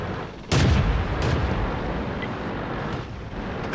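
Tank cannon firing in World of Tanks: a single sharp, loud blast sets off a rolling rumble that lingers, with a fainter distant shot later and a small thump at the end.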